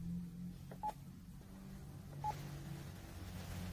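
Keypad tones from a Panasonic KX-TES824 phone system being programmed: two short separate beeps about a second and a half apart, faint over a quiet background hum, with no voices.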